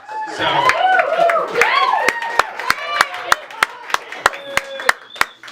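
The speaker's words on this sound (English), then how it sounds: "should pause for wild applause" Clapping from an audience at a live comedy salon show in San Francisco, sharp claps growing sparser and more spaced out toward the end, heard over a person talking and singing loudly close by.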